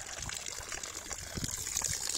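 Water trickling and splashing through a small backyard canal with a little water wheel, a steady close babble with faint outdoor ambience.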